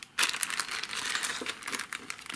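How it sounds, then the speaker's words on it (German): Plastic packaging holding miniature figures crinkles and rustles continuously up close, loud and busy for a couple of seconds. "Ich werde jetzt hier die eine Packung öffnen."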